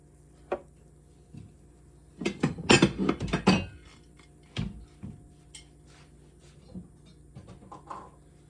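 Utensils cutting into an angel hair pasta lasagna bake in a dish, a few scattered clinks and scrapes of metal on the pan, with a brief busy cluster of knocks in the middle, close and otherwise quiet.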